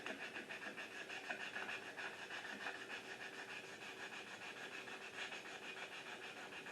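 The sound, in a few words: sanding a vintage radio chassis with sandpaper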